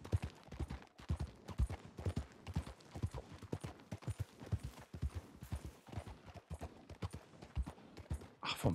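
Steady clip-clop of horse hooves in the video game Red Dead Redemption 2, a quick even rhythm of close taps continuing throughout with no talking.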